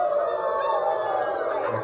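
A group of children imitates a wolf howl together, a sustained, wavering chorus of voices that holds steady and fairly loud for about two seconds.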